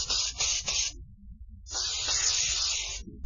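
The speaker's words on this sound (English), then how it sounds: "Introducing the instant patience spray, just one spritz" A spray bottle spritzes in a few quick bursts, then one longer hissing spray follows after a short gap, close and crisp.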